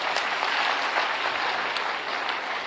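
Seminar audience clapping loudly and continuously, a dense wash of many hands that holds steady throughout.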